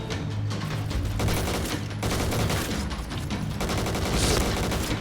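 Rapid bursts of MX4 gunfire in the video game Point Blank, loud and continuous, with several overlapping volleys and brief pauses between them.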